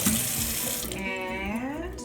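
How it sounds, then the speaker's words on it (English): Vegetables are washed under a kitchen tap, with water running steadily and loudly into a sink throughout and a splashing, shifting stream as the produce moves beneath it. "Let's wash up those vegetables."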